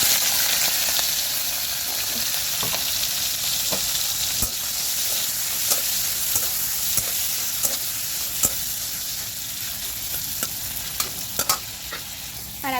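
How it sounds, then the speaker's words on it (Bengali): Fish coated in turmeric sizzles steadily as it fries in a pan, a loud continuous crackle with scattered pops and occasional scraping clicks from stirring or turning, without any voices. "এখন এই যে হলুদ দিয়ে মাছটা এখন ভেজে নেব"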